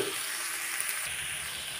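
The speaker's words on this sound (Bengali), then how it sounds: "তো তেলটা দিয়ে কিছুক্ষণ নেড়ে চেড়ে নিলাম" Banana flower being fried and stirred in hot oil, a steady, even sizzle with a faint scrape or two of stirring, close and moderately loud with no voices.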